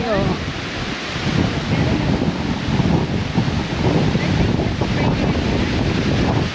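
Strong storm wind roars at an open beach resort at Casobe, Calatagan, with surf churning beneath it; a loud, continuous broadband rush buffets the microphone throughout, with no clear talk.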